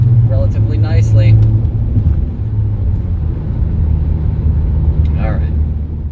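A Saab 9-5 engine runs with a steady low rumble from inside the moving car, while a voice briefly talks over it.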